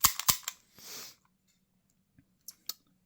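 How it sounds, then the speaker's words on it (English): The slide of an Umarex HK USP 4.5mm CO2 BB air pistol snaps forward in a cluster of sharp, close metallic clicks at the start, followed by a short rustle and two small, quiet clicks near the end. "you can just flap the slide forward, and there you have it."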